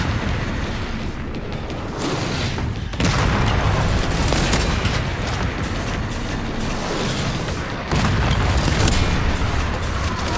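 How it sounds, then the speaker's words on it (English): Mortar explosions in the video game Resident Evil Requiem make a continuous, heavy rumble of booms and blasts, loud and dense throughout, with fresh surges of impact noise partway through and near the end. "it baits the mortar attack into a position that we can just run away from it"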